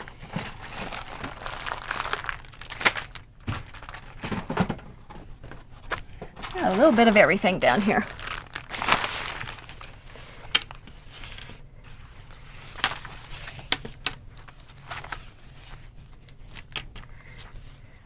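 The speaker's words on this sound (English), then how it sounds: "I'm going to grab a few zippers to put up here on the table." Handbag zippers are handled and set down on a table: intermittent crinkling, rustling and clinking, loudest in one burst midway, while a person talks throughout.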